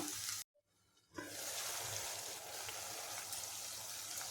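Onions fry in oil in a pan for a crab and brinjal curry. After a short quiet gap, a steady, close sizzle and crackle sets in and continues without talk.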